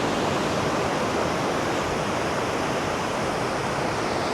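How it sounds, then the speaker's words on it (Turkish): Ocean waves breaking on a beach in Sri Lanka form a loud, steady wash of surf noise with no distinct breaks, close and continuous throughout. "Birazcık dalgalı, okyanus olduğu için dalgalı."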